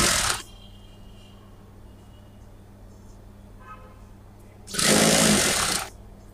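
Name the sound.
sewing machine stitching a straight seam on a salwar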